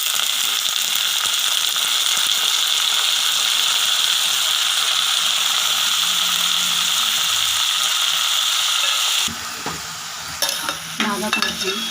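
Amaranth leaves hitting frying onions in a pan, a loud steady sizzle that holds for several seconds, then drops and gives way to scraping and stirring sounds near the end.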